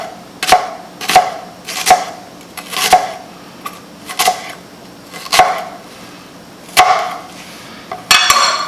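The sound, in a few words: chopping red raw onion into small pieces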